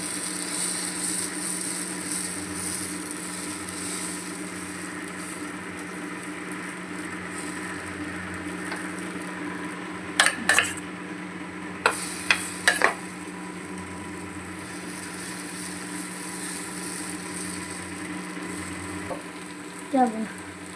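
An oats and vegetable chilla fries in oil in a pan, a steady soft sizzle running throughout with a few sharp clinks of a utensil against the pan midway.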